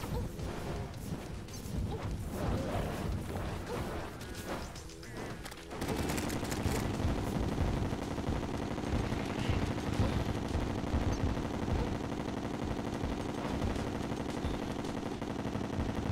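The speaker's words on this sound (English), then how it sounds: "let me get the rainbow gun ready." The rainbow gun in Terraria fires in rapid continuous bursts amid a dense clatter of impacts and crashing battle effects, loud and sustained throughout with no speech.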